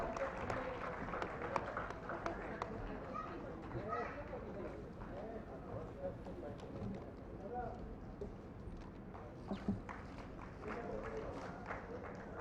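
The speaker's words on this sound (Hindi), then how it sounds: "एक बार जोरदार तालियां" Faint, distant, continuous clapping from an audience at a Hindi book launch ceremony, a dense patter sustained for over ten seconds with voices murmuring underneath.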